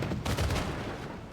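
Rapid gunfire in a strategy video game as a city garrison is shot at, a dense and continuous crackle of shots with low booms underneath, steady and fairly loud throughout with no talking.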